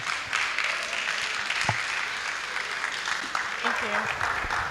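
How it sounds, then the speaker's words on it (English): An audience at a GDG Ibadan DevFest 2024 conference applauds after a lightning talk, a fairly faint, steady wash of clapping with brief voices and a short tonal sound mixed in. "A round of applause for him, please."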